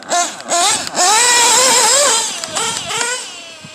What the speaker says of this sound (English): Engine's still running fine.